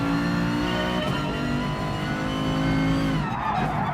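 A car's engine drones at high revs inside Gran Turismo Sport, a continuous loud harmonic whine with tire skidding, the pitch shifting near the end as the car slows or changes gear.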